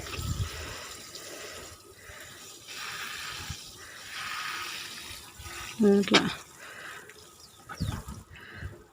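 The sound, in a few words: watering soil in garden tubs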